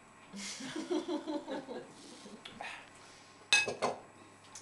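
Dishes being washed clink and clatter in a sink, with a quick run of small knocks followed later by a couple of sharper clangs, fairly close, with faint voices and laughter in the room.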